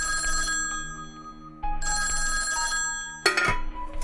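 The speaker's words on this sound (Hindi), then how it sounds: "ये फोन किसका आ गया?" A telephone bell rings loudly and insistently in a household, bursts of bright electric ringing with a brief pause between them, then a clatter as the ringing stops.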